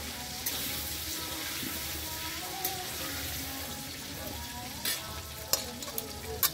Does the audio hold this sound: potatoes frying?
yes